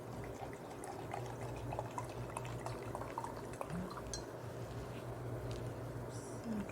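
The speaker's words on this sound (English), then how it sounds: "So you just pour water." Water being poured onto rice in a container to make rice water for hair care, a faint, close trickling and splashing that runs steadily at low level.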